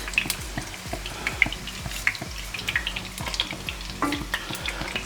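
Cream (30%) poured into a hot frying pan for a pepper sauce, giving a steady sizzle and bubbling with light scraping and stirring, close and moderately quiet with no talk.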